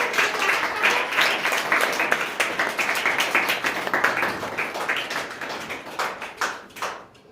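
A school crowd bursts into sustained applause for the top-scoring girl at an exam results ceremony, dense rapid clapping filling the room for several seconds before tapering off at the end.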